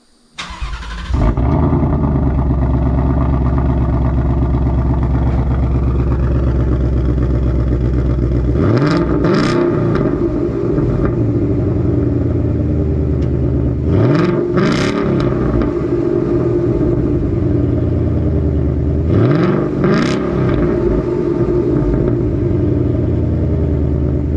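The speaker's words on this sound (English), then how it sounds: "let you guys hear the active exhaust open up" A Ford Mustang GT (S550) with an X-pipe and active exhaust idles with a deep rumble, then revs sharply three times, the exhaust roaring loudly and dropping back to a steady idle.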